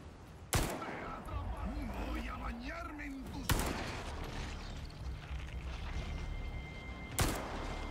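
An RPG launched in Resident Evil 4 Remake: three sharp, heavy blasts spaced a few seconds apart over rumbling game ambience, with a voice talking between the first two.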